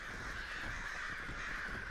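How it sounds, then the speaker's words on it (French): Crows caw in the zombies mode of Call of Duty WW2, a dense, continuous layer of harsh calls blending into a steady, fairly faint wash of noise. "Il y a des corbacs. Ah oui, les corbeaux font des dégâts aussi"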